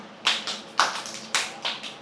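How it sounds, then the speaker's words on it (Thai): Children in a preschool classroom clap their hands on a teacher's cue, several crisp separate claps in a short uneven sequence, close and fairly quiet. "ปรบมือสามครั้ง"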